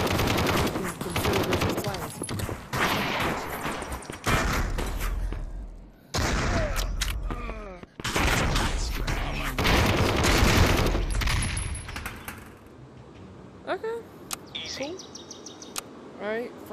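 Pistol gunfire in the VR shooter Aim XR, a string of loud, sharp shots and bursts packed through the clip, with brief pauses and a person talking over the action.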